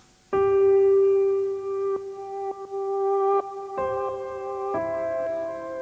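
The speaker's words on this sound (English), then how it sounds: "factory sampler preset, which is grand piano reverse" Sustained grand piano sampler notes with reversed attacks swell in, a few held tones changing pitch in separate chords, playing alone.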